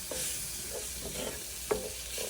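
Onions and masala sauteing in a pan for Punjabi chole, a soft continuous sizzle with light stirring scrapes and a sharper clink near the end, close and fairly quiet.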